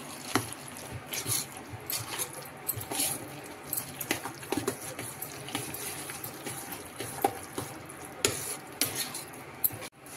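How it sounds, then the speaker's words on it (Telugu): Curd rice ingredients are stirred together in a bowl, with soft wet squelching and scraping of a spoon, plus clinks of utensils against the dish in irregular strokes, close and fairly quiet. "ఇలా అన్నీ వేసేసి మిక్స్ చేసేసుకోవాలి"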